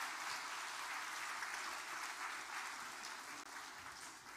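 A church congregation applauding the choir at an Easter Sunday service, a faint, steady wash of many hands clapping in a large room.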